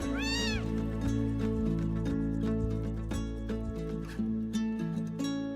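A cat meows in rising, wavering cries near the start as a sound effect in a children's bedtime story, set over a steady musical background that continues throughout.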